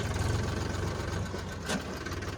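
A steady low engine idle rumbles close by, with a brief clatter partway through and no voices.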